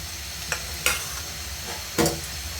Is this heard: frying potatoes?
yes